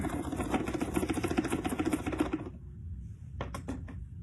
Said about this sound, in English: I'm going to do a vac dump